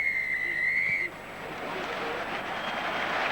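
A referee's whistle shrills for half-time at a 1995 France vs Wales rugby match at the Parc des Princes, one long sustained blast followed by a broad crowd roar, with commentary talk over it.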